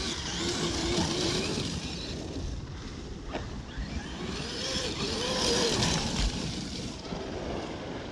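A Traxxas Maxx RC truck running on its rear wheels in a wheelie, its electric motor whining and rising and falling under steady wind noise across the whole stretch.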